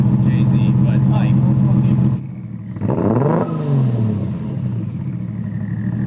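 A Toyota 1JZ engine swapped into a Nissan 240SX revs hard, its exhaust fluttering, then drops off and climbs again in a second rising rev, loud and close with people talking over and between the pulls.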